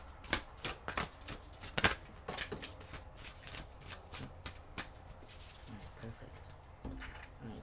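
Tarot cards are shuffled and drawn by hand, giving a steady run of close, crisp flicks and riffles, with speech at times.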